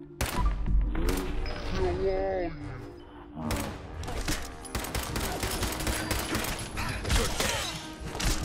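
Sustained gunfire in Fallout 4 as a character is shot, dense rapid shots running through most of the stretch, with voices talking over the first part and a brief lull midway.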